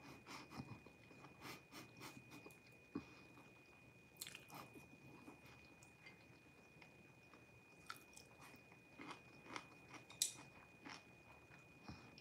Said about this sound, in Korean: 쩝쩝 소리 들리나요?